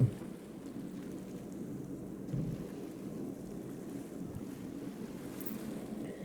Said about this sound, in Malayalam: ആ വെള്ളം വന്ന് പാറയെ തട്ടുന്ന ശബ്ദവും ചെറിയ വേവ്സിൻ്റെ ശബ്ദവും